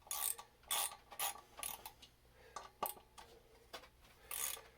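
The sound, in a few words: ratchet loosening motorcycle front wheel bolts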